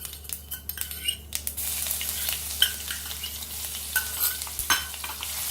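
Crushed garlic and ginger hit hot oil with mustard seeds and cumin for a dal tadka, giving a steady bright sizzle and crackle, with a spoon stirring and scraping against the pan up close.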